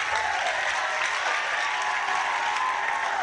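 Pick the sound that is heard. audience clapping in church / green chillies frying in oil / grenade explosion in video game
audience clapping in church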